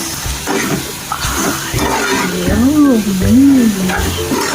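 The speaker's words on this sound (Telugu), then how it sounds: "సీక్రెట్ రెసిపీ వేసిన తర్వాత మొత్తం అంతా కలిపి మొత్తం లివర్ ఫ్రై అన్నిటికి పట్టేలాగా కలపాలి." Chicken liver fry with spices is stirred in a pan, with loud, close scraping and a busy sizzle. A wavering, hum-like tone rises twice near the end.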